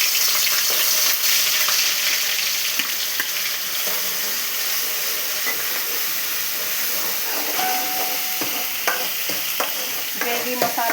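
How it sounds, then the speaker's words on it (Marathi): Masala for fish curry being sautéed in a pan gives a loud, steady, steamy sizzle. Stirring and scraping sounds recur throughout, nearby, with no talking. "तोपर्यंत आपण इकडे मसाला परतून घ्यायचा आहे."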